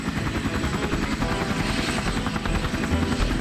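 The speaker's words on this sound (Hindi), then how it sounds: "हेलीकॉप्टर नीचे लैंड हुआ।" A cartoon helicopter landing, its rotor giving a steady, loud, close chopping drone that continues unbroken throughout, with no voices.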